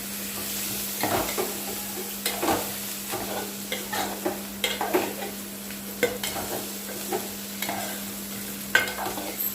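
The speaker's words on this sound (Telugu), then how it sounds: "ఇందులోనే ములక్కాయలు కూడా వేసుకొని కలుపుకోవాలి" Pieces of drumstick (moringa) are stirred into a mango dal in a pan. Repeated scraping strokes sound over a steady low hum and faint sizzle, with no talking.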